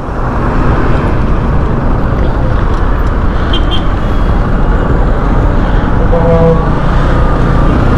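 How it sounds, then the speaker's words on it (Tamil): Dense road traffic heard from a Hero Xpulse 200 motorcycle carrying a pillion rider, a loud continuous rumble of engines and wind with a few brief horn tones, no talking. "ஓ இந்த டிராஃபிக் அப்பா சாமி"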